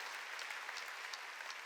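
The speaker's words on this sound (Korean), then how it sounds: "깨달았으면 박수 치라고요." A church congregation at a Sunday worship service claps steadily together, a dense, even wash of applause filling the room.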